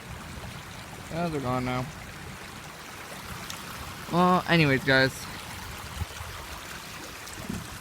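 A swollen brook rushing after a heavy rainstorm, a steady broadband wash of flowing water close by, with a person talking briefly over it.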